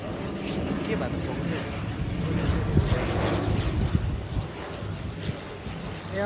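An airplane passes overhead during an evening ride, a broad distant rushing drone mixed with wind buffeting, while voices talk over it.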